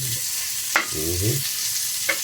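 Onions sauté in a pan with a loud, continuous sizzle, punctuated by a couple of quick scraping stirs and a short low scrape in between.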